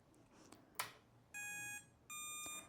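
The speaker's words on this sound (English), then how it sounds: "The motor emits 2 long beeps, meaning the unlocking is successful." Two long, steady electronic beeps from a D460 motor controller sound one after another, each about half a second, confirming unlocking, preceded by a few faint clicks in a quiet room.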